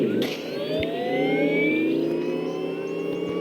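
A fast car's engine in a video game accelerating hard, a loud continuous rising whine with climbing harmonics and a steady roar underneath, close and sustained throughout.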